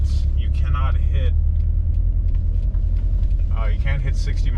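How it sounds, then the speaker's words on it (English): A Subaru Impreza WRX STi with a 2.3L engine drones steadily as it accelerates in second gear, a close, constant rumbling engine note heard beneath a person talking. "now I can wind it out a little bit further and actually hit 60 in second gear"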